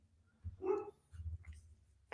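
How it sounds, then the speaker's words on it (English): A house dog barks a few muffled, low, somewhat distant times in short bursts, with quiet gaps between them. "If you can hear my dog barking, I apologize."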